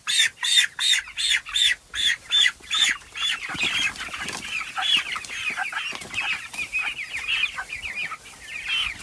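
Young chickens, a Splash Australorp and a Cornish Cross meat bird about four weeks old, cluck and squawk near the microphone, starting with a run of sharp rhythmic calls and settling into softer continuous chatter.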